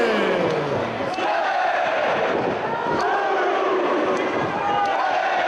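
A Ring of Honor wrestling crowd roars and cheers continuously in a large venue during a Danielson versus McGuinness match, with a commentator's voice running over the sustained noise.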